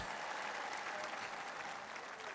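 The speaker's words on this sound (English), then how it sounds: "let's give them a round of applause" Dense applause from a large crowd at a Knicks championship celebration at City Hall, a steady, unbroken wash of clapping at moderate distance that stays even throughout.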